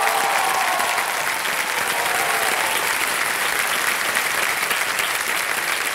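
Studio audience applause on the Indian TV quiz show KBC Season 14 greets a contestant taking the hot seat, a thick, continuous roar of clapping held at full strength for several seconds.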